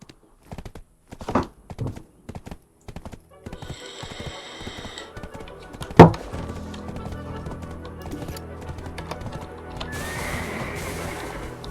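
A game horse whinnies loudly over clopping hooves and clicking mechanical sounds, then a sharp thunk and a steady rushing noise.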